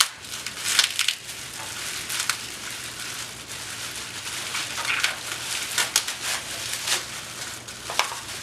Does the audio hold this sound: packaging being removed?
yes